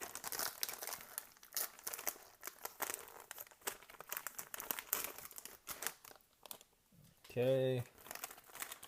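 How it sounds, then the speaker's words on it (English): An MRE packet of French vanilla cappuccino instant powder is crinkled and torn open with rustling, crackling plastic; close up, someone talks over much of it. "Let's go ahead and rip this open."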